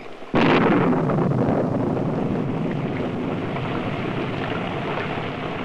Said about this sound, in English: Here, the rain just never quits.